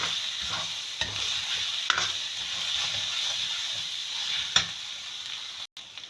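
Chopped tomato meets hot masala for keema in a pan, giving a steady hiss and sizzle with repeated scraping stirs, ending in an abrupt cut; nobody talks.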